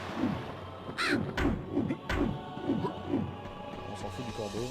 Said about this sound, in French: Putain de corbeau de merde.